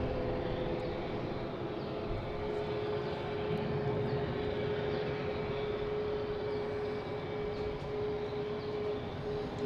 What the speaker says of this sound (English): next to arrive is a JetBlue coming in from Las Vegas